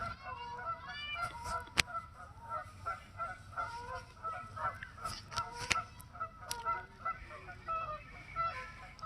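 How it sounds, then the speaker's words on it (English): Noisy geese honk repeatedly at a lake, overlapping calls in an irregular chattering rhythm at moderate distance, with a few sharp louder honks standing out above the flock. "sun and the noisy geese."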